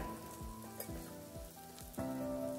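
Onions fry softly in a pan, a faint low sizzle with a few light stirring clicks, quiet and close.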